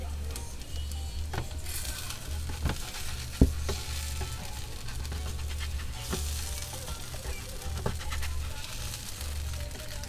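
White potatoes frying in a pan with a steady close sizzle, a spatula scraping and knocking to unstick them, plus a sharp clack.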